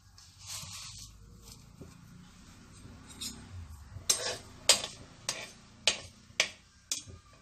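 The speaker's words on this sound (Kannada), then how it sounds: "ಎಣ್ಣೆ ಕಾದಿದೆ, ಸಾಸಿವೆ ಹಾಕ್ತಾ ಇದ್ದೀನಿ" Mustard seeds spluttering in hot oil for a South Indian fenugreek-leaf dish, starting as a soft sizzle and breaking into a series of sharp, close crackling pops that come faster and louder toward the end.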